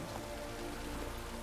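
Steady rain falls in The Witcher 3 video game, a soft even hiss of drops on surfaces with no breaks, faint and constant throughout the short stretch.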